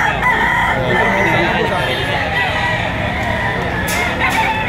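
A white kelso rooster crows loudly and continuously close by amid a crowded gamefowl market in Lipa, Batangas, with chatter and other birds filling the background.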